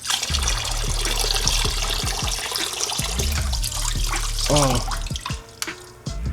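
Engine oil drains from the drain plug of a GSXR 600 motorcycle during an oil change, a steady near trickle and splash of liquid running over background noise, with a brief spoken exclamation near the end.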